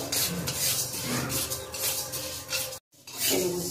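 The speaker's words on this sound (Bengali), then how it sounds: "ডালটা বেশি ভাজবো না, হালকা করে একটু ভেজে নেবো।" Moong dal is lightly dry-fried in a pan, giving a steady close rustling and scraping as the lentils are stirred and rubbed against the metal, with a brief pause near the end.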